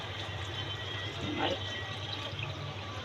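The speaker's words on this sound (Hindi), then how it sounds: "इसमें 2 गिलास पानी हम डालेंगे।" Two glasses of water pour into a pot of fried drumstick and potato curry, a steady close splashing, gurgling stream that holds for about three seconds over faint kitchen background.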